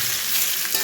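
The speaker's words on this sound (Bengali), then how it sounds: "এখানে আলু ভেজে নিচ্ছি" Potato pieces fry in oil in a pan while a chicken and potato dish is being made: a brief, steady, bright sizzle close to the mic, with no voices.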